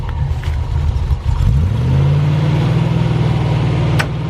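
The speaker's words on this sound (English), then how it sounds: "I'm going to get in the driver's side with, it's a manual transmission in first gear, and I'm going to do a little pull and see what happens" A manual Range Rover Classic in first gear strains in a pull, its engine droning low and loud before the note lifts and holds steady as it works under load, with a sharp clunk near the end.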